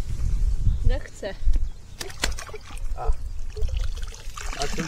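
Water splashing and dribbling as a released carp thrashes at the bank after a Method feeder session, a few brief splashy bursts mixed with talk.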